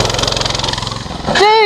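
An engine-swapped petrol scooter without gears revs up as the throttle opens, a rough pulsing motor note rising and then surging loudly near the end, close to the listener.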